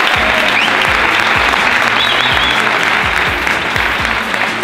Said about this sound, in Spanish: Un fuerte aplauso para Miguel